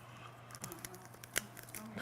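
Scissors snip through paper-thin material at close range. Faint, quick crisp cuts come in an uneven run, with one sharper snip near the middle, over a low steady hum in a quiet room.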